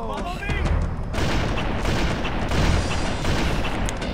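Rapid gunfire and blasts crackle through a Halo: Combat Evolved firefight, dense and continuous, with overlapping shots and bursts under talking voices.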